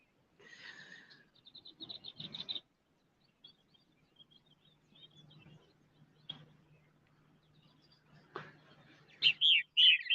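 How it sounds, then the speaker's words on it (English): Birds chirp and call in varied bursts, with a flurry of tweets early, scattered calls in between, and loud sharp chirps near the end; a low steady hum underneath. "There's some birds making all kinds of sounds now."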